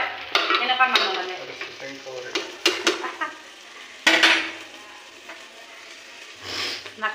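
Okra (bhindi) frying in a pan sizzles softly while a utensil stirs and scrapes against the metal in repeated clanks throughout.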